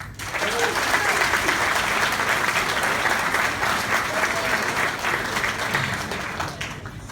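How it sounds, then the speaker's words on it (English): Wedding guests give a warm round of applause during a best man's toast, steady dense clapping from a crowd that swells quickly, holds for several seconds, then tapers off. "I think that deserves a round of applause"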